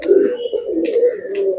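Pigeons coo in soft, low, repeated throaty murmurs throughout, close by, with a faint breathy edge between coos during a look at breeding birds.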